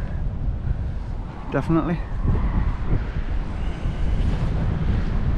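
Steady wind buffets a GoPro microphone fitted with a foam windslayer outdoors, a continuous low rumbling roar throughout, while a person briefly speaks over it.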